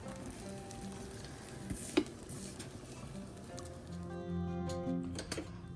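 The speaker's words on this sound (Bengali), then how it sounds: "আর আমি পাশের চুলায় পরোটা ভেজে নিচ্ছি" Paratha frying in a pan on a home stove, a steady soft sizzle and crackle with a few brief clinks of a utensil, close and moderately quiet with no talking.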